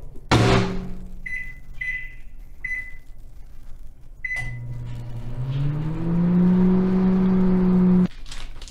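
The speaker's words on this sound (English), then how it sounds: "I put the chili in the microwave." A few short beeps and a door clunk, then a microwave oven hums steadily for several seconds while heating chili, before cutting off.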